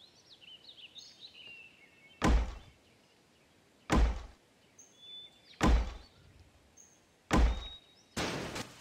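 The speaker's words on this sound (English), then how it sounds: "why don't you get out of there so my firefighter guy can come back here and knock the door down" A firefighter in the Emergency 4 game batters at a door, landing five heavy, booming thuds spaced roughly one and a half seconds apart over faint background birdsong.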